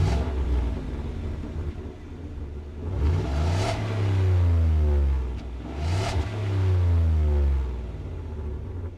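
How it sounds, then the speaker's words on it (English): A naturally aspirated V8 in a 2026 Ford F-150 Lobo street truck revs hard twice, each deep rumbling surge climbing in pitch and then falling back to a steady idle, loud and close, with no talk. "being naturally aspirated, it likes to be wound out, and it sounds wonderful,"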